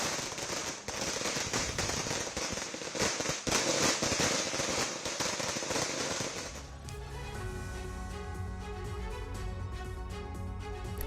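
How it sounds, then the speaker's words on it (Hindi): Loud, dense bursts of firecrackers crackle and pop at a political celebration in Karnataka, a rapid barrage of sharp bangs for several seconds before giving way to music. "पटाखे फोड़े जा रहे हैं"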